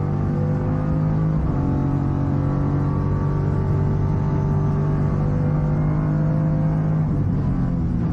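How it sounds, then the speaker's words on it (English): A V8 race car roars steadily at Mallala Motorsport Park during a Hi-Tec Oils Super Series round, its deep, loud engine drone holding a sustained tone with a brief dip in pitch and load partway through. "Oh, that's a beautiful V8 sound."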